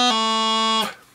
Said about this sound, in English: the practice chanter sounds like this